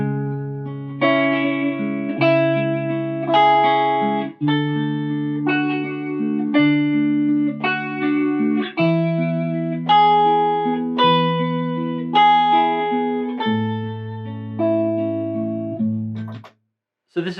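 A clean electric guitar plays a solo of chord tones on steady quarter notes over a chord progression, each note sustaining evenly and in rhythm, loud and alone with no talk.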